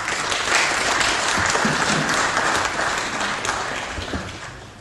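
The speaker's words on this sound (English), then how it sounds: "Please join me in giving a round of applause to Councillor Liaquat." Sustained audience applause for Councillor Liaquat at a Pakistan Day celebration, a dense wash of many hands clapping that holds steady and then slowly fades.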